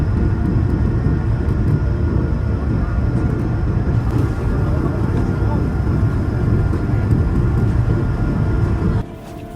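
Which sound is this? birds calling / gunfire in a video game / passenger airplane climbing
passenger airplane climbing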